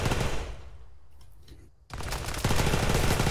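Automatic SMG fire in Arma 3 PvP combat: loud dense bursts of rapid shots, a brief lull around the middle, then sustained heavy gunfire resuming and continuing to the end.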